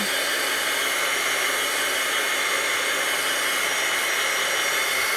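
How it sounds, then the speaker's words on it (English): A craft heat tool blows steadily and loudly across the whole stretch, a continuous hair-dryer-like whoosh and whine used to dry stamped ink on paper, with no talking. "I'm actually going to take my heat tool and just heat it a little bit, just to verify that it's nice and dry."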